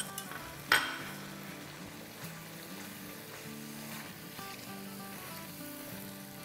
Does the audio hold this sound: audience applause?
no